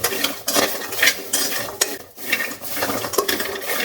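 Garlic dry-roasts in a pan for a fermented onion garlic pickle, with rough, repeated scraping and rattling as it is stirred, in uneven bursts with brief pauses.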